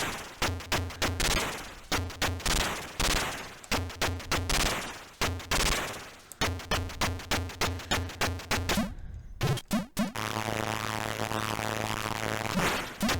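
Gunfire in the Z-Out shoot-em-up game on the Atari ST, a rapid run of crackling electronic shots in quick bursts, then a brief gap and a steady, buzzing synthesized tone.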